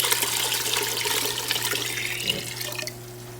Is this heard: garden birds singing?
no